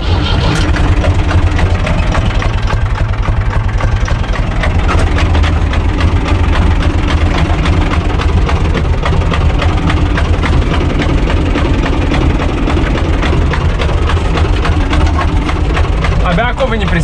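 A U445 DT 4x4 tractor engine idles loudly and steadily close by, a low rumbling chug that holds an even pace from start to finish.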